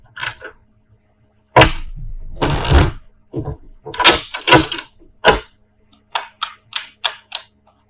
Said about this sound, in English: Let me just gather all the cards here.